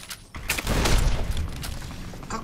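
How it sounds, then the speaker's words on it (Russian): Explosions in Fallout New Vegas on hardcore mode: a rumbling roar of overlapping booming blasts, building after a brief lull and continuing loud and dense throughout. "Какого фига вы тут все взрываете?"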